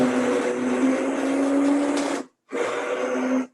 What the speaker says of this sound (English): If you're doing it with a blender, make sure that you put a towel over top of it when you're doing it.